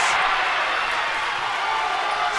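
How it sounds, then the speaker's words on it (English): A good-sized crowd at a girls high school basketball section final roars in a steady, loud wash of cheering that fills the gym without pause. "you are hearing a good-sized crowd tonight"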